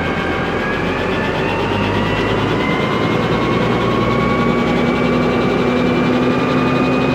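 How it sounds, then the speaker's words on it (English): A tractor engine is revved to about 1500 rpm during a hydraulic valve pressure test, giving a loud, steady mechanical roar with a sustained droning tone that slowly climbs in pitch, continuous throughout without talk. "rev the tractor up to about 1500"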